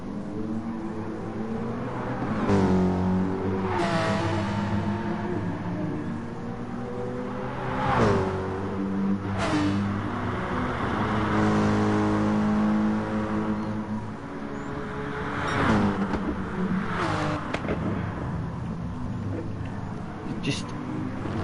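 Race cars in a GT Sport race, with a steady engine drone and harmonic whine that rises and falls through the gears, moderately loud, running continuously under a commentator's voice.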